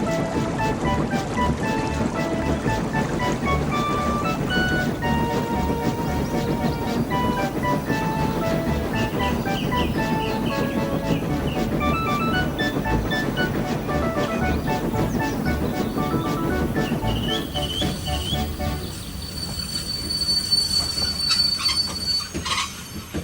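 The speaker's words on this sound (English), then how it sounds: "Thomas the Tank Engine's blue paint sparkled in the sunshine as he puffed happily along his branch line with Annie and Clarabel." Thomas the Tank Engine, a blue steam tank engine, puffs along his branch line pulling coaches, with steady rail rumble and wheel squeal running continuously under a bright musical backing.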